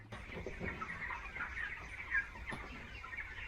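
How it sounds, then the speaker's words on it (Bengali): Hens on a poultry farm cluck softly and continuously at a moderate distance, a low murmuring flock with occasional sharper calls. "এগুলোই মুরগি"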